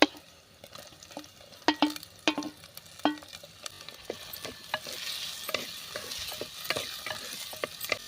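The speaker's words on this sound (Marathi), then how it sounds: "टोमॅटो देखील आपल्याला चांगला परतून घ्यायचा आहे, चांगलं मऊसूत करून घ्यायचं आहे।" Chopped tomatoes sauté with onions already browned to a pink-golden colour in a pan, with a soft, steady sizzle beneath scattered sharp scrapes and clicks from a spatula stirring against the metal.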